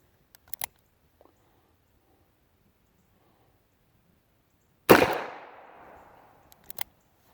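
A Ruger Match Champion revolver fires one loud, close shot that rings out in a long decaying echo. A few faint clicks of handling come before and after the shot.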